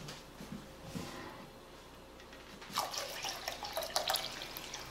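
Filtered tap water pours into a crock pot of brown rice, a soft trickle that swells into a brighter, splashing stream partway through.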